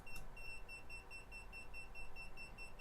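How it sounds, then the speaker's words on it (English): A buzzer wired to a 3D-printed device sounds a rapid, steady run of short, high electronic beeps at moderate volume, repeating evenly throughout with no talking. "It's going to get a little loud because we have a buzzer connected to it."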